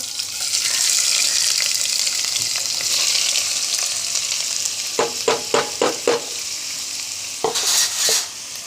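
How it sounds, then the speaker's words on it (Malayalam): Onions sautéing in hot oil in a pan for biryani, a steady close sizzle running throughout, broken near the end by a series of quick scraping stirs of the spatula. "നമുക്ക് ഉള്ളി വാട്ടി കൊടുക്കാം"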